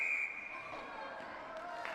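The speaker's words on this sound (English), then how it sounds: "Whistle's blown." A referee's whistle shrills at a girls' varsity ice hockey game against Newburyport, one sharp blast at the start, then fades into the steady noise of the rink and crowd.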